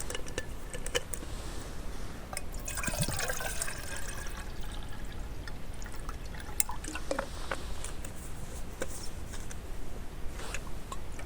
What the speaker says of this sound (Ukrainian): Ставлю водичку.